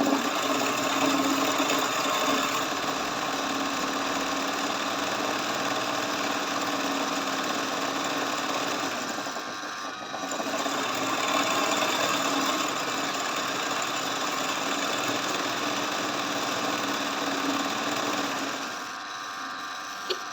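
An embroidery sewing machine hums steadily and mechanically, running continuously at close range with a brief dip in the middle and another near the end, with no voices over it.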